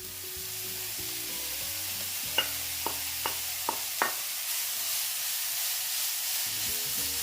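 Minced meat with turmeric sizzles loudly and steadily in a hot pan, a close, continuous hiss broken midway by a short run of five sharp taps or clicks, with no voices.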